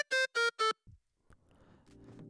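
A synth lead built from a resampled wavetable in Serum plays three loud, buzzy, reedy staccato notes in quick succession, then gives way to softer scattered tones and a quiet sustained pad.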